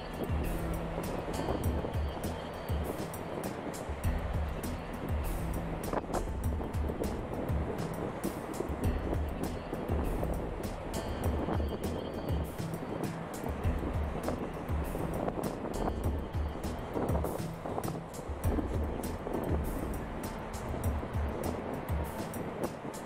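Ocean waves washing onto the beach at Hilton Head Island at sunset, a continuous rolling surf roar with swelling surges, steady and fairly loud, buffeted by wind noise on the microphone.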